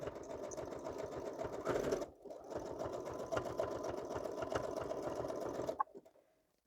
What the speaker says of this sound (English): We'll do a little bit of zigzag on this side, too.